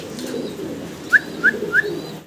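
Pigeons coo in a low, murmuring background, with three short, bright calls popping out evenly spaced near the end.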